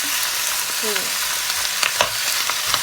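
Hot oil sizzles and crackles steadily as large chicken pieces fry in a hot pot, with a few sharper pops and scraping stirs near the end.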